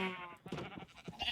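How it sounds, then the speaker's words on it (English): A sheep bleats in the Minecraft video game, a short, wavering, close bleat heard alone with no talk. "My rainbow of sheep going on over there."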